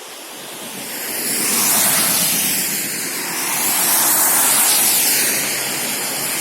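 Steady rain falls outdoors on Murtenstrasse in Switzerland while walking, a dense broadband hiss with gusting swells and wind rushing over the microphone, loud and close with no voices.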